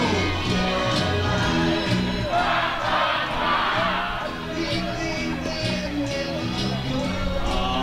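Loud baseball crowd at a HarbourCats game roaring and cheering continuously, a dense, sustained wall of voices with a swell in the middle, while an announcer's amplified voice runs over it.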